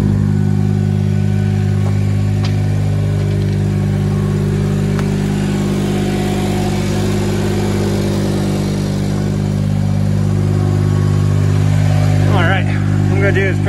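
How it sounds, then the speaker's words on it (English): The Kubota engine of a JLG 330 CRT scissor lift runs at a steady loud idle close by, a continuous low drone that holds throughout while a person talks over it. "Does have that Kubota motor. Let it run,"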